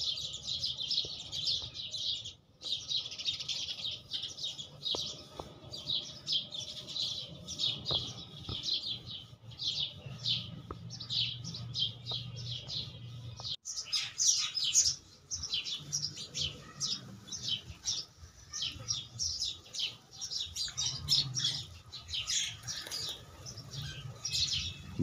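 Small sparrows, adults and young chicks, chirp rapidly while bathing in water at home, a dense, continuous twittering of many birds close by with occasional wing flutters and splashes.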